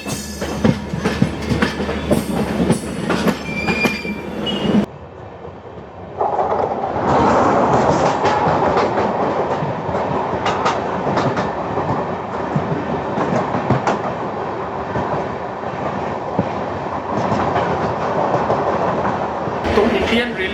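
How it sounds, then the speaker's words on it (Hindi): The Goa Humsafar Express clone train 07380 departs Nizamuddin station, its rolling wheels giving a steady rumble with rhythmic clickety-clack over rail joints heard from on board, with people talking briefly at first. "दोबारा डिपार्चर हो गया है हमारा निज़ामुद्दीन रेलवे स्टेशन से"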